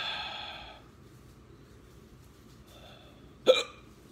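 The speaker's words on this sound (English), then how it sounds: "Hot pepper hiccup." A single sharp hiccup from a man who has just eaten a piece of ghost pepper, loud and close, coming after a soft sigh-like breath and a faint breathy sound, in an otherwise quiet outdoor farm setting.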